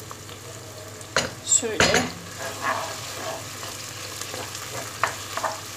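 Tomato and pepper paste cooks in a pan under a low, steady sizzle. A few metal stirring scrapes and clanks land near the start, and a brief spoken word comes in early.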